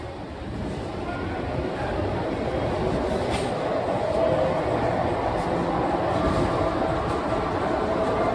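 A Kolkata metro train pulls out of Dum Dum Cantonment station with a steady, loud rumble of wheels and motors that builds slightly and holds throughout.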